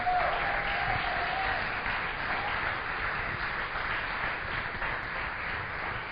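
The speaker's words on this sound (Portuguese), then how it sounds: "agora uma salva de palmas também para o nosso querido ungido." Steady applause from a church congregation fills the space, a dense continuous wash of clapping that holds at an even level throughout, loud and close with no clear talk over it.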